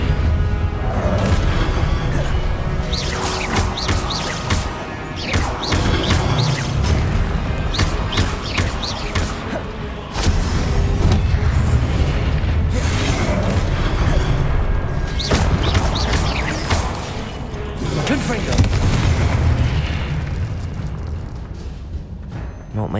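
Explosive Confringo spell blasts in the Hogwarts Legacy video game, a dense run of loud booms and crashing impacts mixed with layered spell effects and combat noise, continuing steadily throughout with brief surges.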